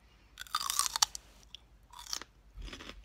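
Raw cucumber and celery with hummus crunched close to the mic, a loud bite and crisp chewing at the start followed by a few softer crunches.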